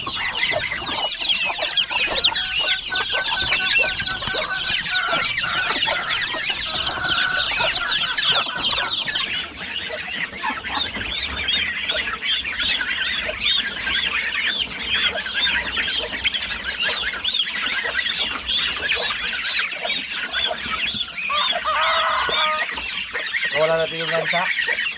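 Chicks and hens on a farm keep up a continuous chorus of high peeping and clucking, close and lively, with a voice speaking now and then among them.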